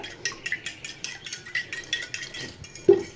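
Egg mixture for a bread-and-egg snack is stirred in a bowl, producing quick, light metallic clinks and scrapes in a steady rhythm, faint and close, ending in one sharper knock.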